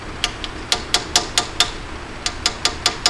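Light hammer taps drive a seal driver onto a Ford 8.8 rear axle seal, about a dozen sharp metallic ticks in two even runs with a short pause between, close and fairly quiet.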